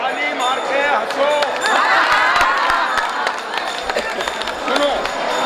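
A crowd of devotees claps and calls out at a Vrindavan temple. Scattered sharp hand claps mix with lively chatter and voices, and children shout nearby.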